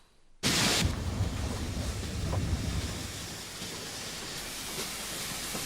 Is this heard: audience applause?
no